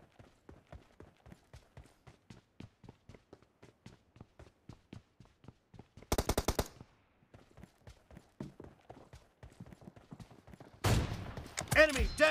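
Sharp gunshots in PUBG crack out in a rapid, evenly spaced string, fairly faint and close, punctuated by two louder bursts later on.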